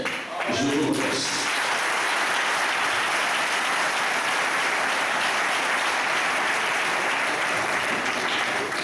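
Sustained applause from an audience at a church dedication service, a dense steady wash of many hands clapping that holds loud for the full stretch with a murmur of crowd voices beneath.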